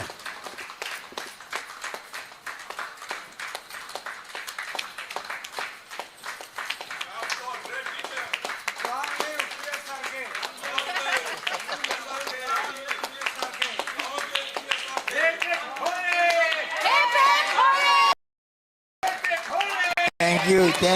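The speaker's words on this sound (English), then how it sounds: "Please could I ask you all to stand and raise a round of applause" A standing audience at a professor's centenary celebration claps in sustained, dense applause that swells and grows louder over about twenty seconds before briefly cutting out near the end.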